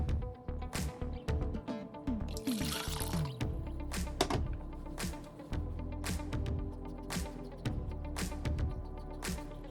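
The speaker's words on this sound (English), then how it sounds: "we're going to combine the water and the sourdough starter in a large bowl." Water and sourdough starter are poured into a large bowl, a soft trickling pour near the start amid kitchen clatter and a few sharp knocks, with no talking.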